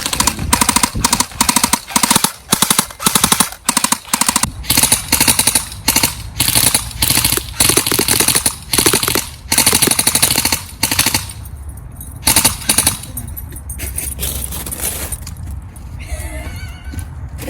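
A Cyma AK74U airsoft gun fires heavy 0.3 gram BBs in rapid, uneven bursts of sharp mechanical clatter with stuttering gaps from poor feeding, loud and close, then trails off into quieter background.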